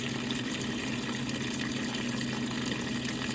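A washing machine fills with hot water for a load of whites, a steady, continuous rush of water running at an even level without pause, with no talking.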